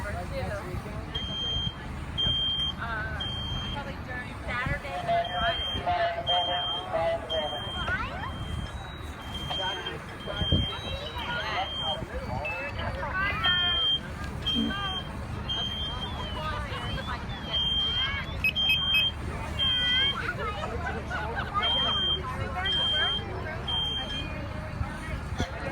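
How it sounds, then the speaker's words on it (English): Repeating electronic smoke alarm beeps sound in bursts during a fire department side-by-side sprinkler demonstration with fire in a building, heard at moderate distance over crowd murmur and outdoor background noise. "That smoke alarm went off again in 10 seconds."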